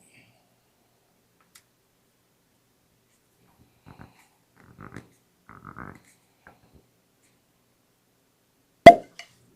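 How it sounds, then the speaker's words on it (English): A single sharp cork pop from a Blue Note honey cask whiskey bottle, loud and close, preceded by faint handling and soft speech sounds in near silence. "Good cork pop."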